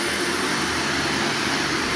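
Carpet-cleaning vacuum working over Berber carpet during an empty-house clean-out, a constant loud whooshing drone of motor and suction, steady and close, with nobody speaking.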